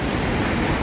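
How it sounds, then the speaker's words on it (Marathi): Fast-flowing floodwater in the Mosam river rushes in a dense, steady roar, loud and close, with no break or pause throughout. "हा बघा, हा पाण्याचा प्रचंड वेग, जोर, स्पीड ज्याला म्हणता येईल, अतिशय स्पीडमध्ये वेगामध्ये हे पाणी येते"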